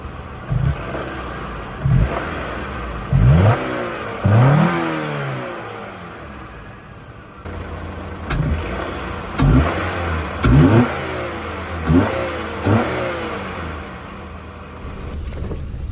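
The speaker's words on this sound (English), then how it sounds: "I got everything hooked up together. Sounds pretty good so far." A Honda Accord fitted with a cold air intake revs repeatedly while parked, its engine rising and falling in loud close bursts about every second or two, several sweeping revs followed by brief idle gaps.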